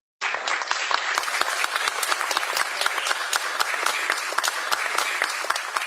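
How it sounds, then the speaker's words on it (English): Shareholders applaud at a large annual general meeting of Reliance Industries, a loud, dense, sustained clapping from a big audience that starts abruptly and holds steady throughout. "let us applaud Isha and the entire retail and consumer product teams"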